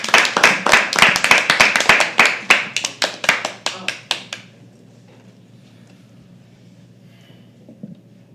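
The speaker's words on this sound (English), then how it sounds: "Keep clapping till he comes on stage." An audience claps at a live poetry open mic in an indoor venue, a close, fairly loud run of rhythmic, slightly uneven handclaps from a small group that stops after about four seconds, leaving quiet room tone.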